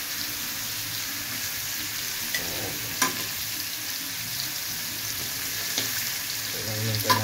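Sliced onions sizzling in hot oil in a pan while cooking laing, a steady close frying hiss with occasional louder pops and a few stirring clatters.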